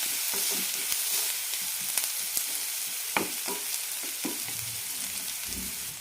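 Onions sauté in a pan with curry leaves, a steady close sizzle punctuated by several distinct spatula scrapes and taps against the metal.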